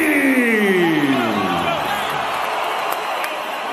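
A boxing arena crowd roars steadily throughout, loud and dense, with a falling whoop or whistle early on and a broad wash of cheering that eases slightly toward the end.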